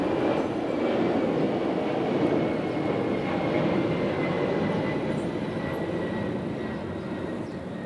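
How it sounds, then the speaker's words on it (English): An aircraft flies overhead, a broad continuous roar holding loud and steady throughout and fading slightly at the end, with no voices over it. "just wait for the aircraft."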